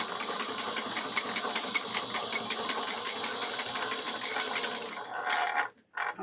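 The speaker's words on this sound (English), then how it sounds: "we're going to sew it across 3/8 of an inch" A sewing machine runs a steady, rapid stitch across a bag seam at 3/8 inch, with a back stitch. The needle whirs close and continuously for about five seconds, then stops abruptly.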